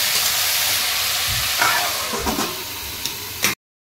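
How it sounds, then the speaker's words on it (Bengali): Sliced luffa simmers in a covered pan over low heat with salt, cooked without added water or oil, giving a steady soft hiss with a few faint knocks and bubbles before it stops abruptly. "আমার ঝিঙে সেদ্ধ হচ্ছে।"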